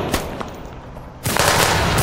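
Gunfire in Chechen war footage, a few scattered sharp shots followed by a dense, loud burst of rapid automatic fire filling the second half.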